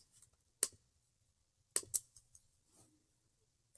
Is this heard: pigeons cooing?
no